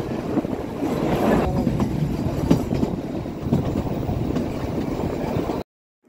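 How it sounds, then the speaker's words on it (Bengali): The Kalka to Shimla toy train runs through forest with a steady rumble and rhythmic clatter of wheels over the rails, loud and continuous, before cutting off abruptly near the end. "আমাদের টয় ট্রেন ছুটে চলেছে বন জঙ্গল ঘেরা রাস্তার মধ্য দিয়ে"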